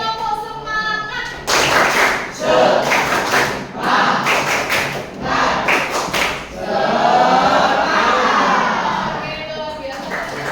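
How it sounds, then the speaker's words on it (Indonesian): A classroom of students performs the rhythmic 'tepuk semangat' clapping chant, loud bursts of patterned clapping mixed with group voices chanting along, close and energetic. "Mari kita tepuk semangat dulu ya supaya kalian semangat tidak ngantuk."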